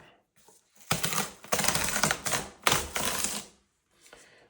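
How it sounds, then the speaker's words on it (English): A cardboard tear strip on an Apple MacBook Air shipping box is pulled open, giving several loud, close, crackling rips in quick bursts separated by brief pauses, with near silence before and after. "So I'm going to pull this tab."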